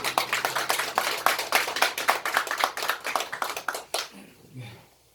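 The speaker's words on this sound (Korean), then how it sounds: "주님께 영광의 박수." A church congregation clapping together during a Sunday service, a fast rhythmic run of close, crisp claps that stops abruptly near the end, leaving a quiet room with faint movement.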